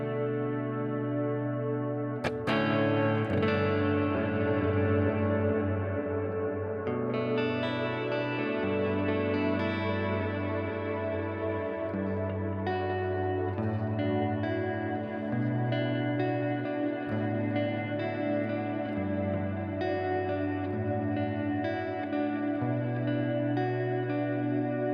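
Electric guitar played through heavy reverb and delay, slow ringing chords and picked notes that sustain and echo into each other, alone and fairly loud, with no talking.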